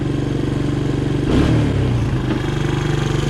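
A 1985 Honda ATC200M ATV engine idles fast and steady with a rapid pulsing chug, briefly stirred by a clattering bump midway.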